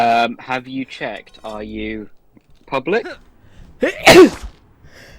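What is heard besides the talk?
sneeze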